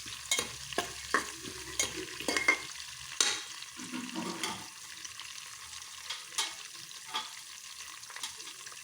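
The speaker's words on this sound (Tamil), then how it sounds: "நல்லா வதக்கி எடுத்துருவோம். இஞ்சியிலேருந்து எல்லாமே நல்லா பொன்னிறமாக வரட்டும்." Ginger and seasonings sautéed in a pan for ven pongal, with quiet sizzling and a spoon stirring and scraping in irregular strokes, close but soft, with no talking.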